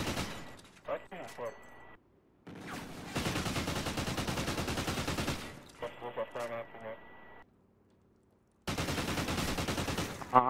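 Rapid gunfire rattles in a multiplayer shooter game, with dense bursts of automatic shots separated by short quiet gaps, and people talking over parts of it.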